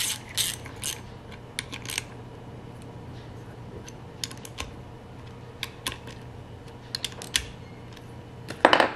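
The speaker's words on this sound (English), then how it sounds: "After I tighten them, you know, by hand, just to get everything assembled, I'm going to go back and torque them." Bolts being torqued on a General Electric CG ball-top monitor-top refrigerator compressor, with scattered close metallic clicks and ratchet taps over a quiet low hum, ending in a brief louder rattle.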